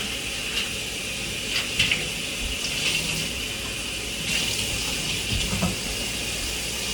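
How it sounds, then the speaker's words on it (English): Pork chops, some of them thick cuts, washed under a running kitchen tap, giving a steady close water stream with brief splashes and shifts as the meat moves under the flow, without any talk. "that's what I'm doing right here, just washing the pork chops"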